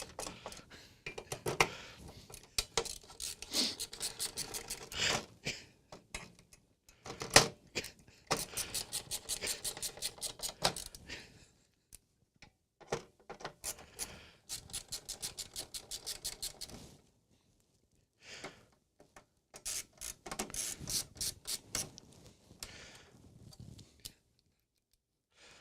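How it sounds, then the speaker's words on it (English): Screws being taken out of an HP 6624A power supply during a repair make faint, close clicks and scratchy ticks in short bursts separated by quiet pauses, with no talking. "There's a handy dandy second set of screws right here that I need to remove anyway."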